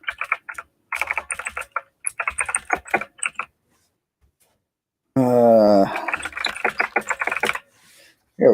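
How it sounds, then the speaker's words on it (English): Rapid clicky keyboard typing recorded right beside the microphone, loud bursts of keystrokes in several runs with short pauses, then a stretch where a voice speaks over more typing. "This is going to be loud because the microphone's right next to the clicky keyboard,"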